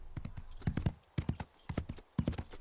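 Horse hooves clip-clop in quick, uneven bursts of crisp, close knocks on a hard surface, with brief pauses between groups and no talking over them.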